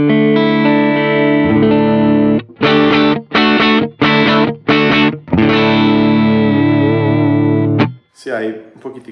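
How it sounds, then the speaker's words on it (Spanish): Electric guitar with light distortion through pedalboard amp models based on a Fender and a Vox AC30 with custom impulse responses: sustained chords, a run of short choppy stabs, then a long ringing chord and a brief scratchy flourish, loud and close. "Hay un poquitico más de distorsión ahí."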